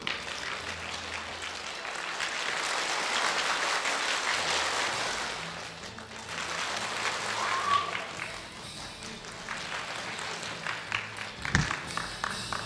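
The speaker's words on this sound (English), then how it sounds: "And if I lower my hands, clap softer." A school audience claps together on cue, the applause swelling loud and dense for several seconds, easing off, then rising again in a steady mid-distance wash, with scattered sharper claps near the end.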